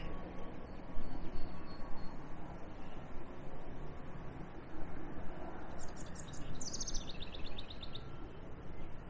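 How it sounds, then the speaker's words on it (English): A small bird chirps in brief high bursts near the end, set among insulators up high, over steady broadband outdoor background noise. "That little guy is making so much noise for being such a small bird."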